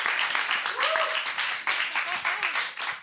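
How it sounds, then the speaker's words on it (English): Applause from a live hip-hop audience rises and holds as dense clapping, broken by brief cheers and whoops, with crowd noise throughout. "let's give them a round of applause"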